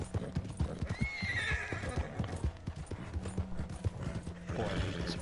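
Horse in the Red Dead Redemption 2 video game whinnying in a long, wavering neigh over steady clip-clopping hooves, with a second shorter whinny near the end; close and fairly loud.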